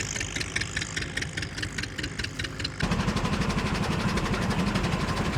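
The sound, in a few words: Minneapolis tractor engine running belted shingle mill cutting cedar shingles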